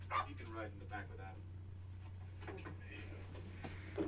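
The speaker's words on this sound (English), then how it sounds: "What a great dog you have." A dog gives a few short barks and yips in a scene from the TV show Monarch: Legacy of Monsters. The barks are quiet and sit under people talking and a steady low hum.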